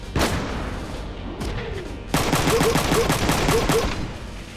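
Rapid machine gun bursts from the video game Front Mission 3, an opening shot followed by a long loud rattling volley of evenly spaced rounds.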